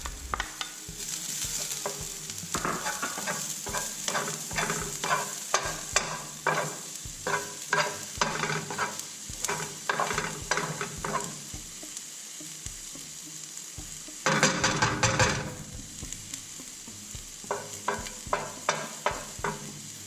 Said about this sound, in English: Now I am adding the green onions.